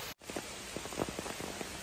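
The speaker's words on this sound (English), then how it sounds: "Still raining." Steady rain falls outdoors during bear trap building, a close hiss with scattered soft drop taps and a brief dropout near the start.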